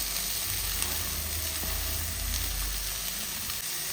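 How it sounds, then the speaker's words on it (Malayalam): Sliced onion and green chili fry in a pan with a steady, close sizzle that holds evenly throughout, with no talking. "പിന്നെ ഒരു നീളത്തിൽ മുറിച്ച ഉള്ളി അതും കൂടി ഇട്ട് കൊടുക്കാം."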